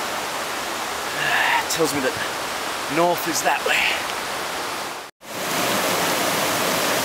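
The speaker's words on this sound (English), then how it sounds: "Here I am at this river" A river rushes with a constant broadband hiss, close and full, while someone speaks over it; the flow cuts out for a split second before resuming.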